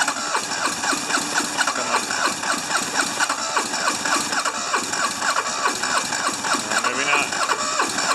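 On a cold morning a smoky diesel engine cranks and catches, then runs with a rough, pulsing chug that stays close and loud while people talk over it briefly.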